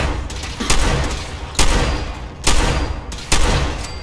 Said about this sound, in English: Decided to go with the combat rifle, or not rifle, combat shotgun.